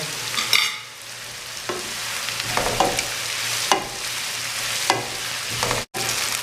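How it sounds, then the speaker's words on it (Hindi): Vegetables for restaurant-style Chinese fried rice frying with black pepper, salt and soy sauce, tossed with a spatula: a steady loud sizzle broken by regular scraping stirs roughly once a second. "काली मिर्च, नमक और सोया सॉस डालने के बाद 2 से 3 मिनट के लिए मैंने पका लिया"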